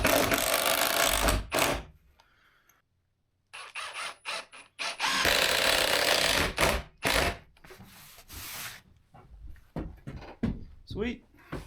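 A drill boring into glued birch plywood, several loud whirring bursts separated by pauses and short gaps, close by, with someone talking in between.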